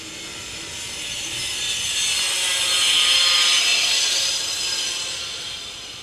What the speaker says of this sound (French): l'autre il passe la meule